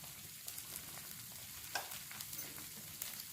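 Oil sizzles under a rava dosa on a hot pan, a soft, steady frying hiss with small pops and crackles scattered through it.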